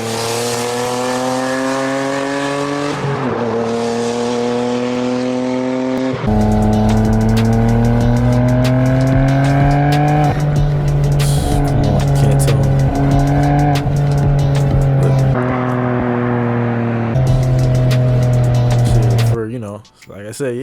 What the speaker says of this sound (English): It's really raspy and metallic, a little bit like Fresh Kicks S15.